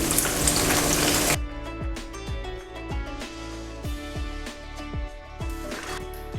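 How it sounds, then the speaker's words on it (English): Vegetables for a vegetarian nasi lemak being half-fried in a pan, a dense loud sizzle at first that thins to a steadier crackle with repeated soft knocks and thuds over it. "So just half fry it for about less than 5 minutes usually"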